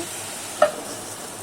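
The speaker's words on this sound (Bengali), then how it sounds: "আলু দিয়ে ভালো করে মশলার সাথে মিক্স করে নিতে হবে নেড়েচেড়ে মিক্স করে নিচ্ছি" Potatoes are tossed with spices in a pan for an egg and potato curry, giving one short clink of a utensil against the pan over a faint, steady sizzle, with no voices.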